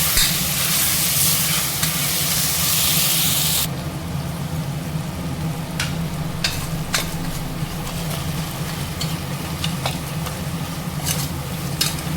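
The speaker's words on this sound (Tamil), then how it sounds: "தக்காளி, வெங்காயம், இஞ்சி பூண்டுலாம் வெங்காயம்லாம் நல்லா வதங்கிடுச்சு. தக்காளி சேர்த்துக்கலாம்." Onions, ginger and garlic sauté in a pan, a loud steady sizzle that drops sharply as tomato goes in, followed by softer frying with scattered stirring clicks and scrapes.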